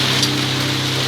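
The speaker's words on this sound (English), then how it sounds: "We are starting the trip and it's raining like hell." Heavy rain falls steadily at midnight on a trek toward Indonesia's Merapi volcano, a dense, continuous hiss close by with a low steady hum beneath and no talking.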